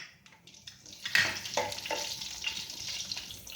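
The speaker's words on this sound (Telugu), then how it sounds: "అలాగే పచ్చిమిర్చి కూడా వేసుకుని వేగనివ్వాలండి" Cumin, mustard seeds and green chillies frying in oil, opening with a few sharp crackles before a strong sizzle surges up and settles into a steady hiss.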